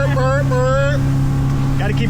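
A 1978 two-stroke outboard motorboat runs steadily on the water, its loud continuous engine drone filling the whole clip while someone talks over it.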